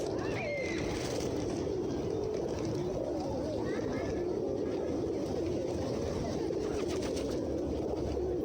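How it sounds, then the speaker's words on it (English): Birds at a bird show in a crowded hall, with pigeon-like cooing and brief chirps over a steady din of crowd murmur and background noise throughout. "Look at beautiful birds guys."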